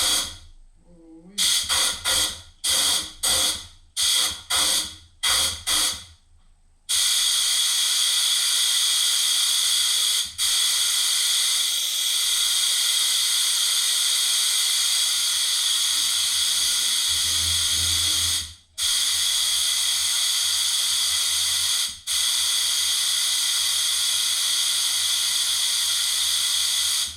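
Compressed air hisses loudly and steadily from an Eastwood epoxy primer spray gun fitted with an adapter, first in several short bursts, then as a long continuous blast broken by two brief pauses.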